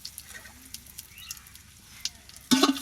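Cashews and raisins are dropped into hot oil in a cooking pot for pulao, giving quiet scattered ticks before a sudden loud burst of sizzling near the end.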